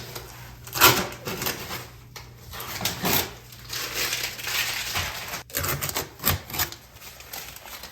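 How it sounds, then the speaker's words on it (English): Blue painter's tape being peeled off a handrail, giving a series of crackling, ripping tears and sharp clicks in irregular bursts, close and fairly quiet, with no speech. "Now we're going to take it off all of the blue tape so we can see what it looks like."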